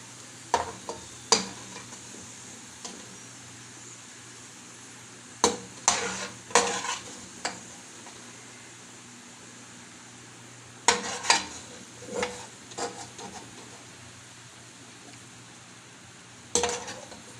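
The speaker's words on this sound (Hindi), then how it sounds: "प्याज हमारे फ्राई हो रहे हैं, ये देखिए" Onions frying in oil in a pot for chicken biryani, a low steady sizzle broken by bursts of stirring clatter and utensil clinks against the pan.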